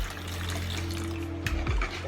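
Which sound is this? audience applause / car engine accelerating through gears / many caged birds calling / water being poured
water being poured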